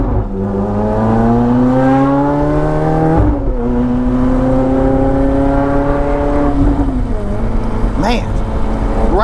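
Ferrari F430 with aftermarket exhaust revving up through its RPM range, loud and close, the engine note climbing in steady rising sweeps with a brief break between pulls and someone talking over it.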